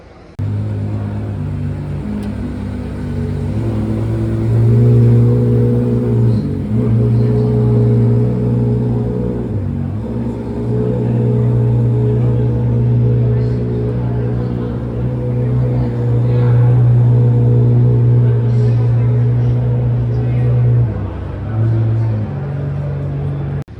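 A 1955 Corvette engine running at an auction, a loud, steady low idle rumble that swells into a couple of revs before settling back, with a voice talking faintly underneath.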